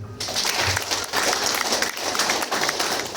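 An audience at a business partner training session bursts into steady applause, a dense continuous wash of many hands clapping that stays loud throughout.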